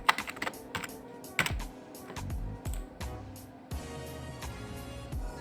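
Typing on a computer keyboard in a Windows session, a steady run of close, crisp key clicks with a few heavier keystrokes, alone and fairly quiet.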